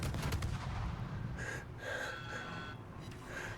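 A minefield entry warning sounds in the naval combat game World of Warships. A few short, bright tones repeat over a rumbling, noisy battle backdrop.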